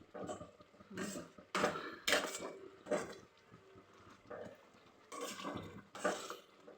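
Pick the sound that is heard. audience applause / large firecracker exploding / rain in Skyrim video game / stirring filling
stirring filling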